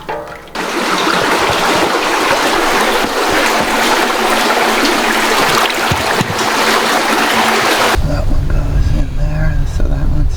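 Creek water flows steadily during filling on an Alaskan homestead, a dense continuous rush for most of the span that cuts off abruptly near the end to a quieter low rumble.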